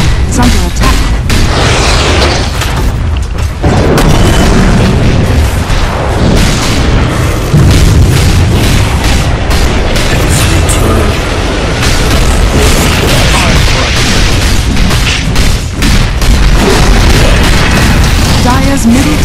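Dota 2 towers come under attack and fall amid dense, continuous game combat: loud booms, bursts and explosion-like impacts layered without pause, with an announcer-style voice over the din.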